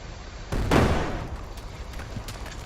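Tank cannon fire in the game Brick Rigs: one loud, close boom with a broad crack that rolls off into a long, rumbling decay, set over a steady noisy background with faint later thuds.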